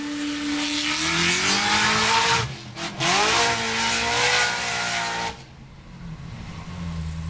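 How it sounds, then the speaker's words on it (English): An off-road racing car with a new exhaust system roars loudly and close while climbing a steep hill at Icelandic Formula Offroad, revving up and down in pitch as it strains, with a brief dip before easing off near the end. "The new exhaust system doing amazing things here. Let's listen as he does the final climb."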